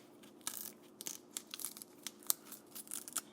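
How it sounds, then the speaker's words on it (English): A knife cuts the end off a plantain with faint, scattered crackling snips and tearing sounds close by and quiet, with no talking. "I like to kind of cut this part out."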